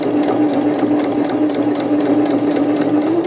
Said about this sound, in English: know that my needle is going to stitch straight